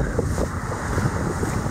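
Wind blowing at Malibu Beach in Onna, Okinawa, a steady rushing buffet over the microphone with soft surf beneath, continuous and fairly loud for a brief moment.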